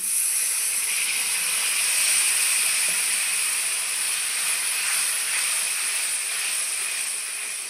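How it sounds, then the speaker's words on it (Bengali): A splash of water hits hot, well-fried masala in a pan for chicken biryani, producing a loud, continuous steamy hiss that holds steady and fades only slightly. "মশলা ভালোভাবে কষিয়ে নিয়েছি, অল্প একটু জল দিয়ে দিব"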